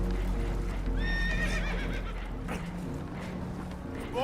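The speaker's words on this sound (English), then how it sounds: "Horses are spooked" Horses whinny in Red Dead Redemption 2, a high wavering neigh rising out of a steady rumbling backdrop with faint hoof clatter, one clear call near the middle and another starting at the end.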